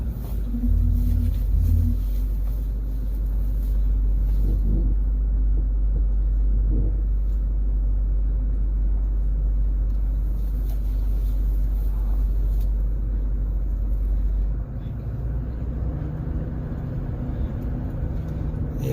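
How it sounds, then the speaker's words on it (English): A 2008 Ford F350 with the 6.4L diesel engine, heard from close by as a heavy, steady low rumble with a few brief swells under light throttle. It eases slightly near the end, and no one speaks. "I'm barely feathering into the gas pedal. Barely. You can hear it run up quick."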